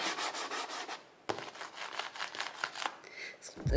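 A hand rubbing the matte plastic tray of a baby high chair, a run of quick dry scraping strokes, a brief pause, then more rapid rubbing strokes close to the microphone.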